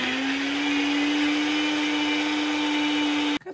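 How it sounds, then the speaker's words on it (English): A kitchen blender whirs steadily while mixing milk with Oreo ice cream cake into a milkshake, a loud constant motor drone that cuts off abruptly at the end. "Add milk, put it in a blender, and you have like a Oreo"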